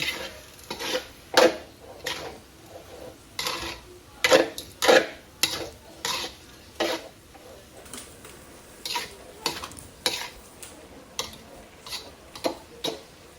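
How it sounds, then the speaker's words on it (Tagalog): Seasoned ground meat is stirred in a pan with a utensil, making a steady series of scraping clicks and taps against the metal, with faint sizzling underneath and no talking. "Tapos haluin lang."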